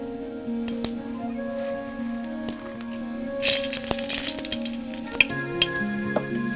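Fennel seeds and dried chillies fry in hot coconut oil in a pan for a Kerala vegetable dish, a steady close sizzle that swells into louder crackling midway, with a few sharp clicks and stirring knocks.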